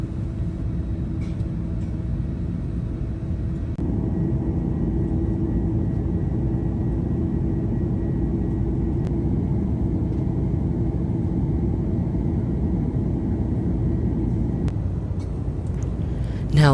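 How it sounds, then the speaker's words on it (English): Cabin of a Qantas Airbus A330-300 airliner climbing to cruise: a loud, steady low roar and hum of engines and airflow that continues unbroken throughout, with a faint chime near the end. "Our plane then climbed to cruising altitude and flew northwest to Jakarta"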